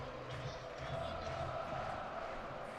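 A football stadium crowd roars steadily at a Michigan versus Rutgers college game, a broad continuous wash of cheering, with a commentator's voice faintly audible underneath.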